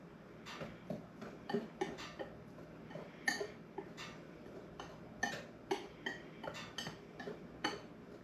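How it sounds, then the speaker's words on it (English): A whisk stirs flour, baking soda and salt together in a bowl, making quiet, irregular clinks and taps of metal on the bowl, with no voices. "And we're going to whisk that together."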